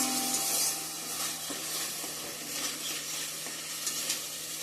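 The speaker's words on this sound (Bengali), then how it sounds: "এখন জল দিয়ে দেব" Water goes into a pan of sautéed spice paste, a louder burst of hissing at the start settling into a steady bubbling sizzle with occasional stirring scrapes.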